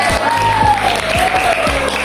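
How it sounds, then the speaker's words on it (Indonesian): Applause from a classroom audience for a classmate who has just introduced himself, a steady patter of clapping throughout with a voice faintly present underneath. "Beri tepuk tangan untuk teman kita."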